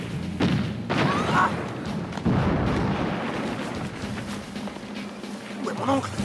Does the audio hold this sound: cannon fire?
yes